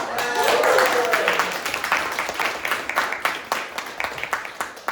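Audience applause at an improv comedy show, a burst of clapping that swells loudly at first then thins into scattered individual claps, with a voice briefly calling out near the start.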